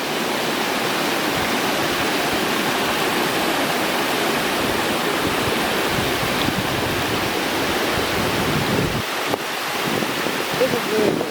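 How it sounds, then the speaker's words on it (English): Water flows steadily at a former mill in a nature center in Mikkeli, Finland, a loud broadband rush like a small waterfall or rapids that continues unbroken, with wind buffeting the microphone. "you can really hear the water"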